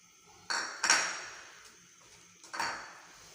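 Ginger garlic paste stirred in a metal cooking pot for a bhuna gosht, giving a few sharp scraping clanks of a spoon against the pot, close and moderately loud, in quiet pauses without talk.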